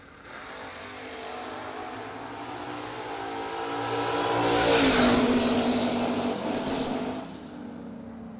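Chevy truck engines roar together in a drag race launch, swelling from a steady drone into a loud high-revving climb and fading slightly as the trucks pull away down the strip.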